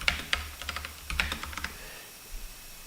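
Typing on a computer keyboard: close, crisp key clicks in two quick bursts, then one faint click near the end.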